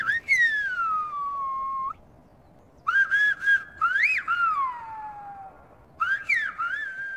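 Whistled language from La Gomera: a single person whistles sharp, gliding tones in three separate phrases with pauses between, each phrase rising and falling like speech melody.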